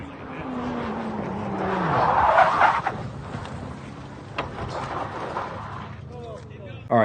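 A Honda CRX roars around a race track on a hot lap, engine droning steadily with a rising and falling pitch as it shifts and corners, tires faintly squealing, heard from inside the car.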